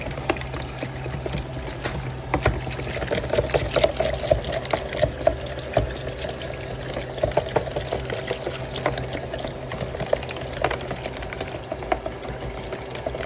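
Melted salve poured from a pour spout into a mixing bowl, giving a steady, close liquid trickle with small splashes and bubbling that runs through the whole stretch without talk.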